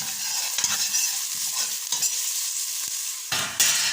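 Onion frying in cooking oil in a pan, a steady close sizzle with a few sharp stirring scrapes and clinks, louder bursts near the end; no talking.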